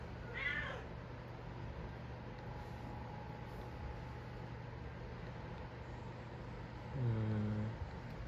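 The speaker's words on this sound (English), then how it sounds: "You have to calm down, cat." A cat meows twice, with a short, bright cry near the start and a louder, lower, drawn-out meow near the end. A steady low engine-like hum runs under both calls, and no one talks.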